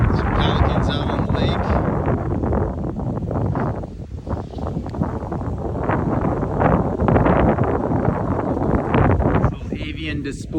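Steady wind blows across the open air beside a lake, buffeting the microphone with a loud, continuous rumble and rushing hiss that swells and eases without a break.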